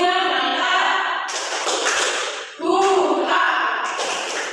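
A classroom group chants in rhythm, with bursts of hand clapping in two loud rounds separated by a brief pause, voices and claps close and lively together.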